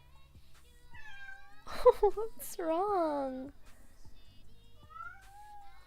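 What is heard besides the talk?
kitten meowing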